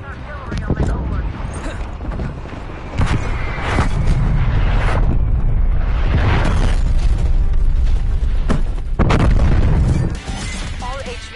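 Artillery explosions in a war video game, a series of heavy booms and bursts landing in quick succession, loud and rumbling, some close and some farther off, with game voices talking between them.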